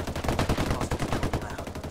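Rapid automatic gunfire in the video game Ghost Recon Wildlands, a dense, loud burst of closely spaced shots firing alone in a continuous rhythm.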